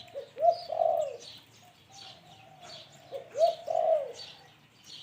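A spotted dove coos nearby in two clear phrases, each a soft rising note followed by a rolling, throaty coo, with quiet chirps in the background.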